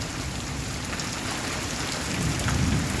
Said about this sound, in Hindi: पानी गिरा थे और गरजा थे भाई।